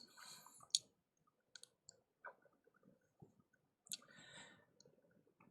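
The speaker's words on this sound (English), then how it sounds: "let me try to type something and give you some examples" Keystrokes on a computer keyboard while writing Python code: sparse, irregular clicks and short clusters of taps, close but quiet, with no talking.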